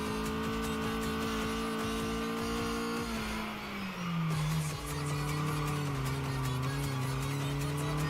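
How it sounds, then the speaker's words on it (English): A video game car in Redline Reverie drifting under handbrake, its engine droning steadily then dropping in pitch as the tires squeal and skid, a continuous loud whine throughout. "I'll have to use the handbrake."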